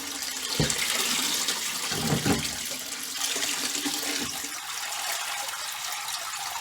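Water pours and streams out of a lifted mesh bag of soaking raw sheep's wool, a loud splashing gush with a few heavier slosh bursts that settles into a steady trickling drain close by.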